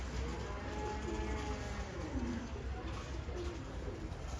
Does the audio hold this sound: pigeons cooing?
yes